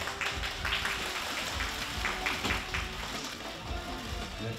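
Crowd applause at a drama production press event photo session, a soft, steady patter of clapping from a room of reporters, heard at a moderate distance with a few sharper claps standing out.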